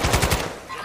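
Rapid automatic gunfire in a video game, with several quick shots in a burst lasting under a second, loud and close.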